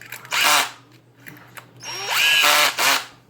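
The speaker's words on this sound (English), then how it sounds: "I'm gonna cheat, use the drill, speed things up" A power drill drives screws into an RC truggy, the TLR 8ight T 4.0, in two loud whirring bursts with a rising pitch, separated by softer clicks and handling noise close by.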